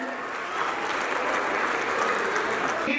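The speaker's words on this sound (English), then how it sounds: "Please give them a great round of applause" Audience at a school annual day celebration applauds, a continuous wash of clapping from a large crowd of parents, steady and fairly loud throughout.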